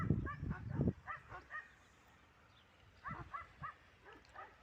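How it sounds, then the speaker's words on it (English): Dogs bark in the background on a sunny morning in Torrevieja on Spain's southeast coast, with a cluster of barks at the start and a few fainter ones later. "Dogs barking in the background."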